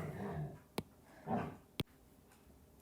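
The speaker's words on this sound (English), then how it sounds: "I had to pause and ask the dogs to be quiet" Dogs playing indoors in the background, heard as a few faint low growly and whimpering noises with two sharp, brief knocks between them, quiet and otherwise calm.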